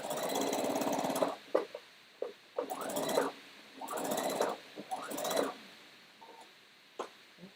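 Sewing machine stitching and backstitching a seam around the rim of a hat, with a bursty motor run of several short stitching passes separated by brief pauses, moderately quiet and close.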